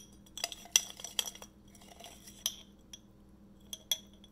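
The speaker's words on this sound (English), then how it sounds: "I'm taking a teaspoon." Metal cutlery clinking against dishes as a teaspoon is picked up for a bowl of spicy noodles: several sharp, bright clinks scattered over a few seconds, close and fairly quiet against faint room hum.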